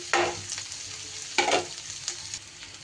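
Grated potato hits a hot pan with green chilli and spices, frying in a steady sizzle while a spatula scrapes and stirs in two bold bursts, then softer scuffs; close and fairly loud, with no talking.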